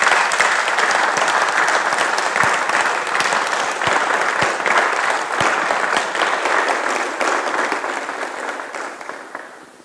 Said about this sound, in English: let's give all your loved ones and supporters a round of applause as well.